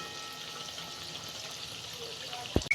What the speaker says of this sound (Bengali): পকোড়াগুলো আমার ভাজা হয়ে গেছে এইভাবে আমি সবগুলো ভেজে নেব